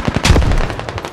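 Gunfire in a military video game, a loud flurry of overlapping shots and heavy thuds, dense at first and then thinning into scattered reports.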